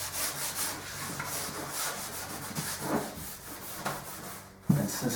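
Sandpaper scuffs back and forth over a painted mirror frame, taking the shine off before gel stain goes on, steady rubbing strokes up close with a louder scrape near the end.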